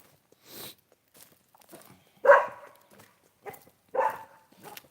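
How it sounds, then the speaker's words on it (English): Puppies on a farm give a few short, scattered yips and barks, mostly faint and spaced apart, with one sharper bark near the middle and light shuffling between them in a quiet morning setting. "There's the puppies."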